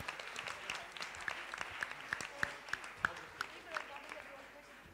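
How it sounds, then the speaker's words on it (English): An audience claps for a winning team at a school all-rounder competition grand finale, with scattered individual claps rising and falling at a modest distance while voices carry on underneath. "So give them a big round of applause."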